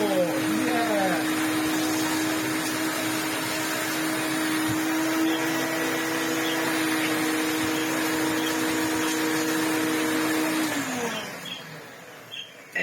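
An upright vacuum cleaner runs with its hose attachment in use, a loud steady whine with a tonal hum that dips as suction shifts, winding down at the end; a person talks over it.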